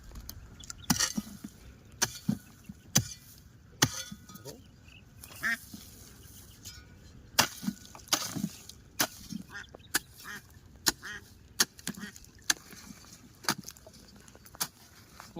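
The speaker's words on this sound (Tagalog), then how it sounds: "Ito, andito yung itik." Ducks quacking near a cobra's burrow, scattered sharp calls and clattering bursts repeating irregularly over faint outdoor background, with occasional distant voices.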